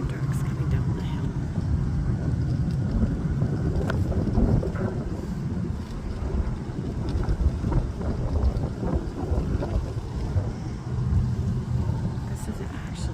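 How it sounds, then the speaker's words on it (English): Heavy mine trucks rumble down a hill at a working mine, their low engine drone blending with steady wind buffeting the microphone, continuous and fairly loud for the whole stretch. "There are mine trucks coming down the hill."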